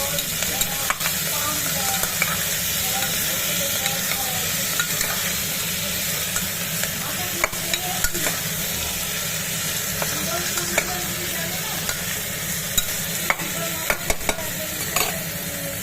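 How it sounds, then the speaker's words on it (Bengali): Ginger, cumin and garlic paste stir-fries in hot oil for a goat meat curry, a steady loud sizzle with scraping stirs and occasional clinks of a utensil against the pan throughout, no talk. "আদা জিরে আর রসুন বাটা অল্প আর একটু নেড়ে নেবো"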